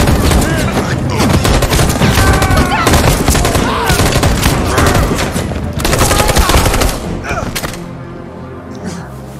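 Rapid bursts of gunfire from the video game Detroit: Become Human fill the scene, dense and loud throughout with booming shots and a few thuds, easing slightly near the end.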